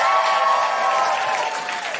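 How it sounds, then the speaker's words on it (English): An audience at a comedy show applauds with some cheering, a brief swell of clapping and voices that fades slightly toward the end. "Another round of applause for Esther, Manito, Michelle de Swarte, and"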